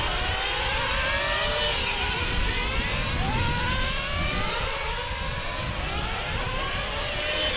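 Small high-pitched RC touring car engine whining steadily down the back straight of a GT World Cup final track, a continuous buzzing drone with gliding pitch sweeps from several cars, loud and near throughout.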